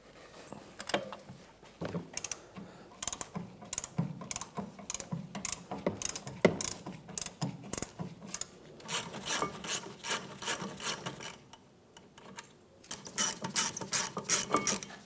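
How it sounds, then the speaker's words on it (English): A 14 mm socket on a breaker bar loosening caliper bracket bolts on a 2011-2016 Hyundai Elantra during a brake rotor and pad job, with close, repeated ratcheting clicks and metallic scraping in bursts and short pauses. "with a 14 millimeter socket and a breaker bar, we'll remove those now"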